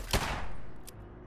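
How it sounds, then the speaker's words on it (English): A single sharp gunshot in Fallout 4's Nuka-World, close and loud, followed by a decaying tail and a fainter second crack. "Or shooting the thing. Shooting Cappy. What a shot."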